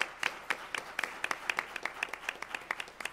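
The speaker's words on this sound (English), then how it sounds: "Give her another big round of applause." Quiet, sparse clapping from a conference audience, individual hand claps spaced unevenly and sounding distant and thin.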